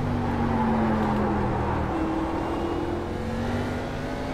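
A NASCAR race car in iRacing at Watkins Glen, its engine droning loud and continuous with the pitch stepping down as it downshifts under braking.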